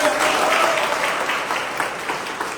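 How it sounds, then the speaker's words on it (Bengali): Dense, continuous applause from an audience at an academy gathering, loud and close, holding steady throughout and then easing slightly toward the end. "এটা জন্য হাততালি হবে"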